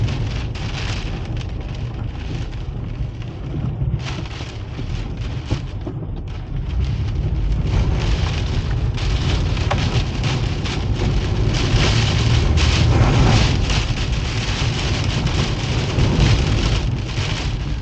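Heavy rain lashes down with gusting wind on a Guernsey cliff during Storm Ciaran, a loud, constant roaring hiss with buffeting low rumble that swells stronger midway and stays intense without voices.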